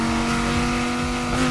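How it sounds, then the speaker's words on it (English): A McLaren engine in the Need for Speed Heat racing game holds a loud sustained high tone under load at close range, a steady, even roar without pauses. "Now the shifts on this car sound very good, and they sound super realistic to how an actual McLaren shift would sound."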